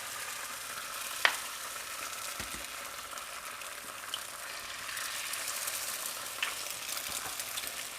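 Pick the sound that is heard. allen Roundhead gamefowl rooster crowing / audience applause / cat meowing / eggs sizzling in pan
eggs sizzling in pan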